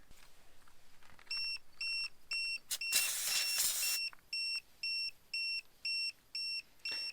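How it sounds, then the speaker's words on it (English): An RV's tire pressure monitoring system alarm beeps in a steady repeating pattern of short, high, evenly spaced tones, about ten in a row, with a brief burst of broadband noise partway through. "Now you can hear the alarm going off."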